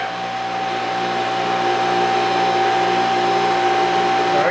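A pump on a homemade parts washer sucks fluid up through a flexible hose, giving a loud, steady motorized whine with a constant pitch, close and unbroken throughout.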